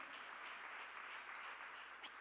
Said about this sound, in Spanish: que nos demos eso, un aplauso